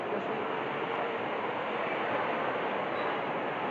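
Steady rushing rumble of a Montreal metro train running along the track, continuous and even throughout with no voices.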